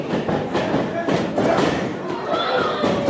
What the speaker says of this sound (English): Vega with some hard forearm shots